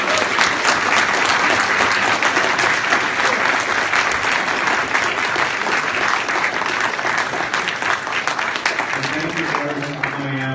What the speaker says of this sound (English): everyone get a round of applause for Ben Shapiro